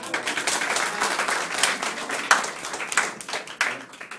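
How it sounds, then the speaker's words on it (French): Wedding guests at a civil ceremony before the mayor break into loud, dense applause, close and sustained, with a few voices underneath. "On applaudit comme ça."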